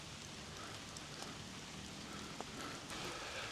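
Rain falling at Mayan temple ruins in San Ignacio, Belize: a steady, even hiss of rainfall with a few sharper drops, continuous and moderately faint.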